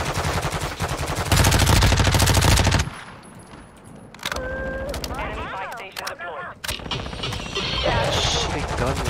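Automatic gunfire in Call of Duty, loud dense bursts dominating the first seconds, then scattered shots and game effects under players talking.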